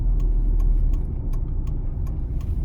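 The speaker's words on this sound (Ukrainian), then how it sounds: "правий покажчик повороту" A car's turn signal ticks steadily in a regular rhythm of about one click every third of a second, moderately loud over a constant low engine and road hum inside the cabin during a driving-test route.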